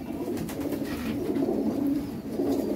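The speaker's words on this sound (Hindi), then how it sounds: "ब्लैक टाइगर, सही, माशाल्लाह बड़ा बेहतरीन कबूतर है ये भी" A Black Tiger breed pigeon in a loft, cooing in low repeated rolling phrases close by, soft and continuous with no talking.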